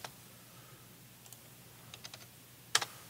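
Sparse computer keyboard typing, scattered close key taps with a short burst of louder clicks near the end and no talking.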